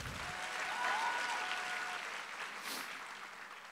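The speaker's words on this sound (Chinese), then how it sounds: "我们给爱多美一个热烈的掌声。" Audience applause at a business seminar, a dense burst of clapping that swells early then slowly thins and fades, with a few faint whistles.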